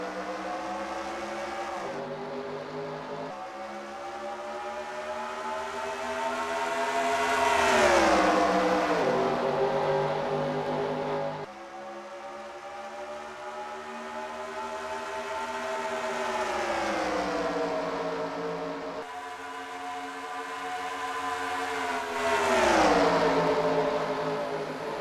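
Race car engines roar together at the green-flag start of a stock car video game race at Arizona, a loud sustained mass of revving that rises and falls in pitch in repeated swells, with no voices.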